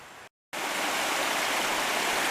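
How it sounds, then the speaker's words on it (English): The Rose River in Shenandoah National Park rushes as a steady, loud, broadband stream, with a short cut to silence near the start before the flow returns unbroken. "There's the Rose River."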